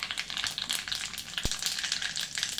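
Garlic hits hot oil in a dal tadka pan already holding chilli, tomato, curry leaves, mustard seeds, cumin and asafoetida. The result is a dense, crackling sizzle with one sharp click midway.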